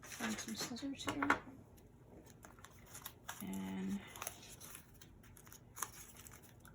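Scissors snip through paper for a ring bound journal made with vintage materials. Several quick, crisp cuts come early, followed by rustling and handling, with a person talking quietly.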